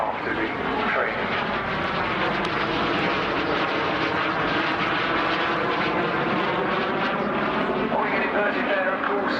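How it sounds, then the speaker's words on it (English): A vintage training aircraft flies past at the Southport Air Show, its engine a loud continuous drone that rises and swells throughout, with a commentator talking underneath. "this is a really capable and stable machine, an ideal aircraft to be training"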